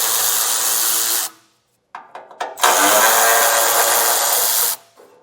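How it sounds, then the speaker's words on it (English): Power tool driving a 10mm socket on the heat shield fasteners under a 2025 Ram 2500, in two loud sustained whirring runs separated by a short gap with brief bursts, close up and with no talk. "I got a 10mm socket and there's 6 fasteners."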